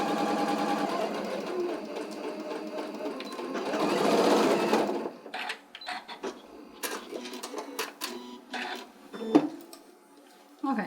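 A sewing machine stitches a seam of a stuffed fabric pumpkin, a fast, whirring run of needle strokes that stops, then scattered clicks and small handling taps as the fabric is adjusted.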